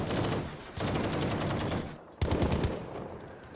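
Machine-gun fire in the World War II shooter Battlefield V, two long rattling automatic bursts split by a brief pause, loud and close, the gun prone to overheating.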